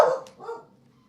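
A dog lets out one loud, close bark followed by a softer second yelp, then quiet.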